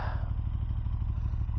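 A 2018 KTM 1290 Super Duke R motorcycle engine idles close by with a steady, low, throbbing pulse and no talk.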